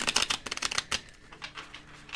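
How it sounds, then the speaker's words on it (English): Deck of tarot cards being shuffled by hand, a rapid flurry of crisp riffling clicks up front that thins into softer, scattered taps, close and fairly quiet with no talking. "Try and get a good couple shuffles on this deck."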